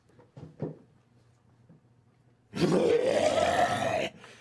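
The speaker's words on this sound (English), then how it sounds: "A terrible, guttural roar shakes the room, followed by the sound of grinding and dragged chains." A terrible guttural roar with grinding and dragged chains, heard as a loud, sustained rumbling growl of about a second and a half following a few faint earlier sounds.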